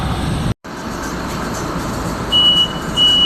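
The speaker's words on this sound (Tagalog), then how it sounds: "Warning buzzer na." A train's steady electronic warning buzzer sounds in short bursts over loud train rumble inside the carriage, with a sharp cut in the noise near the start.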